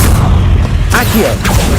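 Accio spell cast in Hogwarts Legacy, a short swishing magical whoosh with a booming low thud, heard alongside a voice in a brief loud game moment.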